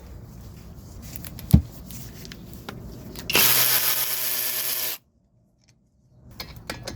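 A 14mm tool works the bottom brake caliper bolt on a Hyundai Tucson during a front brake pad change: a sharp metallic knock, then a loud, steady power-tool whir for over a second that cuts off abruptly, followed by clatter.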